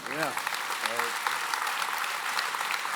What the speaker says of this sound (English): can we clap it up for Cal Ripken one time?